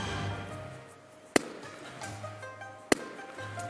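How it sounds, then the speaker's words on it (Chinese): A balloon bursts over a hot flame in a classroom-style demonstration, giving two sharp, loud bangs about a second and a half apart over a low steady room hum. "我们模拟的其实是爆炸"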